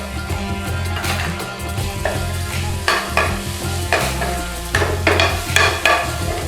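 Garlic and ginger sizzling in a hot pan, a continuous loud frying hiss broken by several bursts of stirring and scraping, no talk.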